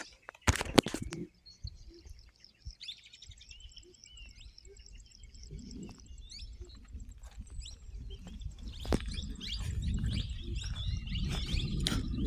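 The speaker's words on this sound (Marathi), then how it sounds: "पोपट आज पण त्या साईडला ओरडत आहेत" Parrots calling from forest trees near mango trees, with scattered high chirps and squawks at a distance over a rustling background that grows louder, and a few sharp close knocks near the start.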